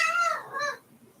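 A pet cat gives a single short, drawn-out meow indoors, close and fairly loud, fading into quiet.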